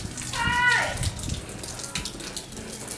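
Water runs and splashes as a small boy plays in water outdoors, a steady rushing flow with a brief brighter splashy burst early on, fairly close.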